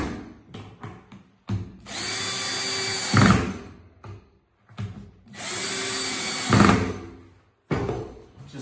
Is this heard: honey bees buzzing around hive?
no